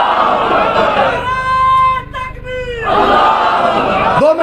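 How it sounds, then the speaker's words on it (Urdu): A large conference crowd chants the Takbir slogan in unison, loud and close, with two roaring surges of many voices around a brief lull, a single voice rising at the end. "ایک بار آپ نعرہ تکبیر بلند کریں۔"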